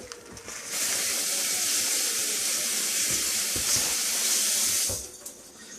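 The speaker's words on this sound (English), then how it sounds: "One thing you'll see is I wash my hands a lot." Tap water runs steadily from a faucet into a sink as hands are washed during ham preparation, a broad hissing gush that starts abruptly, holds for about four seconds and cuts off.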